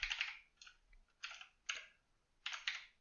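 Typing on a computer keyboard: short bursts of rapid key clicks separated by pauses, about five clusters in a few seconds, close and fairly quiet, with no voices.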